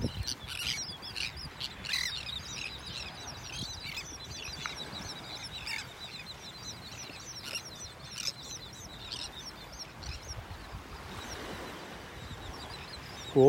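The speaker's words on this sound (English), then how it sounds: "Birds out here. Look at them all." Flock of shorebirds on a beach in North Naples, Florida, giving repeated high chirps and squawks over soft surf and wind, moderately distant and steady, with no talking.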